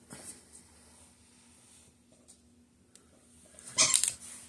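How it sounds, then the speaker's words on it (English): A dog squeaking its new toy indoors: a quiet room, then a short burst of sharp squeaks near the end, close and fairly loud. "hear this dog come with this goddamn squeaking again"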